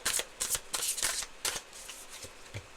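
A deck of tarot cards is shuffled in quick riffling bursts, close and crisp, tapering into a few softer taps at the end.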